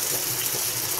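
Broth pouring into a cooking pan, a brief steady rush of liquid that is close and fairly loud, with no talk over it.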